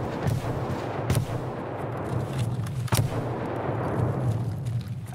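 Gunfire in a multiplayer shooter game: two sharp, loud shots about two seconds apart, with softer distant pops and a low rumbling bed between them.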